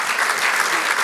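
A church congregation in New Jersey breaks into steady, dense applause, a loud continuous wash of clapping from many hands without any voices on top.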